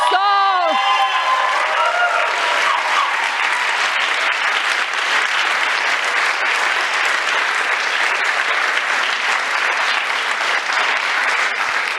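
A conference audience at an innovation pitch event applauds the organizing team in a dense, sustained ovation lasting about twelve seconds, loud and even throughout, with a brief tonal sound at the very start.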